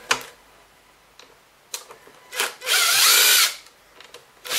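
A cordless power tool backs screws out of a Kirby vacuum being stripped down, with short bursts of drilling, one long loud whir in the middle, and clicks and handling noises between the bursts.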